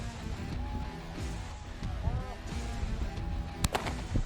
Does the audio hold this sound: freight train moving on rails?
no